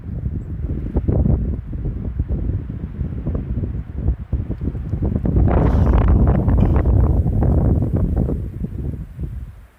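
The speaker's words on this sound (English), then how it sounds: "The wind." Strong wind buffets the microphone on a mountain trail near Mohawk Lakes, a loud, continuous roar that gusts harder midway and stays up close throughout.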